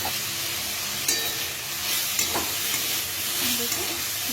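Pumpkin and bottle gourd greens are stirred in a pan, making a steady soft sizzle and hiss with occasional light utensil clicks, close up and without speech.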